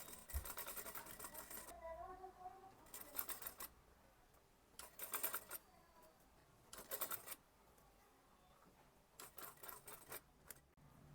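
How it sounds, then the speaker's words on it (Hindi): A sewing machine stitches the sleeve onto an Anarkali kurti in several separate bursts of rapid, even needle clatter, each lasting about a second, with quiet pauses and soft fabric handling between them. "अब दोनों पार्ट का मार्जिन को बाहर की साइड रखें और यहीं से सिलाई शुरू करें।"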